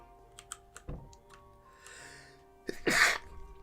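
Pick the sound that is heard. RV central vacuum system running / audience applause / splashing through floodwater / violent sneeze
violent sneeze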